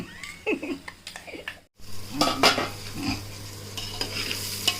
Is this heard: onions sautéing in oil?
yes